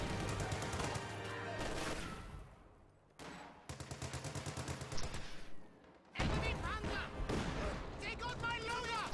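Battlefield combat in a strategy video game: rapid bursts of gunfire and machine-gun fire crackle with heavy anti-tank gun shots, broken by short pauses and sudden loud volleys, with speech in between.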